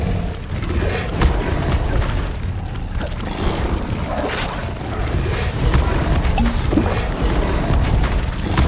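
Incendio fire spell cast repeatedly in Hogwarts Legacy, a steady roaring, crackling burst of flame that stays loud and dense throughout with no clear breaks.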